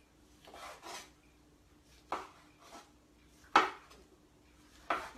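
A knife cuts through a rolled pickle appetizer on a board, several distinct, sharp slicing taps spaced about a second apart, quiet and close with no talking.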